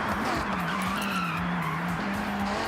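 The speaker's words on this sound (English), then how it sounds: "Then you brake near the sign." A car brakes hard into a corner in the Forza Horizon 6 racing game, with a steady, loud tire skid squealing over the engine for a few seconds.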